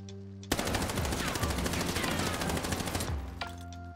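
A Sten SMG in Warzone fires one sustained full-auto burst of about two and a half seconds, rapid even cracks that stop abruptly, with a quiet game hum before and after.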